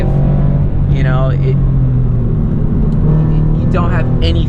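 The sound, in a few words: Toyota 86 car driving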